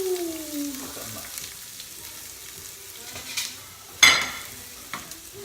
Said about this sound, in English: the pan is hot, so we are just going to add our seasoning